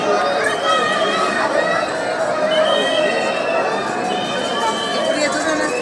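A dense crowd gathers at a temple in Shahpura, awaiting a religious leader's appearance, with continuous overlapping chatter and murmuring voices filling the space at steady volume throughout.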